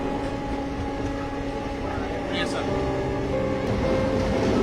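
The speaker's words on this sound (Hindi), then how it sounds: "वैसे वैग 9 का एक्सेलेरेशन भी कमाल का है, काफ़ी बढ़िया ट्रेन यहाँ पिक कर रही है।" Train hauled by a WAG-9 electric locomotive runs steadily past Dadri station, giving a continuous rumbling rail drone with tonal hum, with a voice talking over it.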